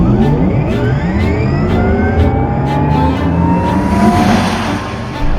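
Porsche Taycan electric car accelerating hard at around 180 to 195 km/h in normal mode, giving a loud steady whine with rising electric-motor tones and heavy road and wind roar throughout, with no voices.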